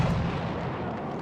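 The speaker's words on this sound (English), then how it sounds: "You're seeing AT rocket guns come in." Rocket fire from anti-tank guns in the Battlefield 1 video game, a dense, continuous rumble of booming blasts over a low roar, loud and sustained without voices.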